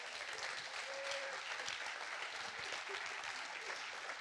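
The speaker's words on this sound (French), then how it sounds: "je vous demande d'applaudir les 3 speakers qui ont dit oui" An audience at a tech conference keynote claps steadily for three speakers, a continuous patter of applause at moderate volume heard from within the hall.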